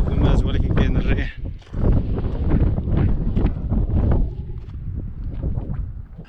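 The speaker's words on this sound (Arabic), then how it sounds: "ولكن كاين الريح" Strong wind buffets a microphone outdoors in the Ait Bouguemez valley near a communal granary, a loud, rumbling roar that gusts and eases over several seconds.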